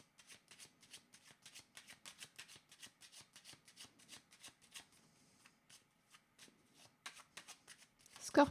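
Tarot cards are shuffled close up in a quiet room, a long run of quick papery riffles and slides in bursts, ending with a louder rustle.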